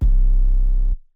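Heavy sub-bass 808 note from a dark piano trap beat, deep and sustained with a gritty distorted upper edge, holding for about a second before cutting off cleanly, played alone.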